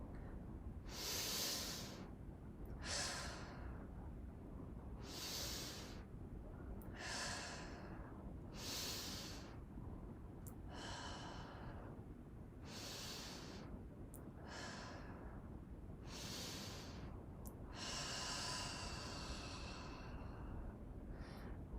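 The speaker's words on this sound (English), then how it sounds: "Another one I do with my kids is roller coaster breathing." Slow, deliberate breathing exercise done with children, called roller coaster breathing: about ten long audible breaths, each a drawn-out inhale or exhale with airy hiss, evenly paced and close, with no talking.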